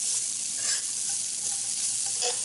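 Onions, mushrooms and thyme fry in a pan while a spoon stirs and presses them, giving a steady close sizzle with soft scraping strokes throughout.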